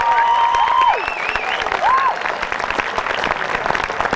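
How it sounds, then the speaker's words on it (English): Loud applause from a graduation crowd at a senior high school ceremony, continuous dense clapping with a few whistles rising above it early on. "Give yourself a round of applause"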